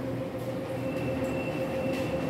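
A Sydney Trains train departs the station between West Ryde and Eastwood, a steady rumbling rolling noise with a sustained tonal hum and faint wheel squeal, heard from the platform without talk.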